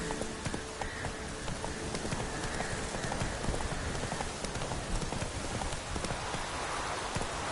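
Hooves of Roach, the horse in Witcher 3, trot in a steady clip-clop rhythm under a constant wash of rain, heard close and moderately loud throughout.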